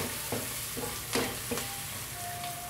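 Grated turmeric goes into chicken arroz caldo (rice porridge) frying in a pot and is stirred in. Close, soft sizzling runs throughout, broken by a few scraping stirs of a spoon.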